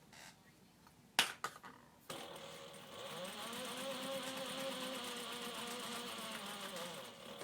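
A sewing machine stitches a clutch lining at a 2.5 stitch length, starting after a couple of sharp clicks and then running as a steady, close mechanical whir that holds until the end.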